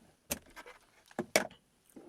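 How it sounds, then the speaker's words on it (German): A power distributor pulled from a car's 12 V socket, giving a few sharp plastic clicks and rattles close by, with a quiet pause between the first click and a quick pair of clicks near the end. "Ich ziehe den Verteiler jetzt also ab"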